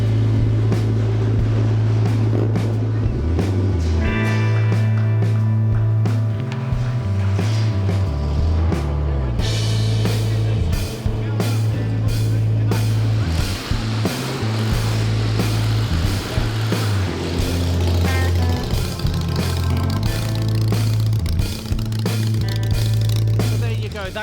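Custom motorcycles ride away from the Kickback National Custom Championships show in 2015, engines throbbing and revving loudly at close range, rising and falling in pitch as bikes pull off one after another, with crowd noise underneath.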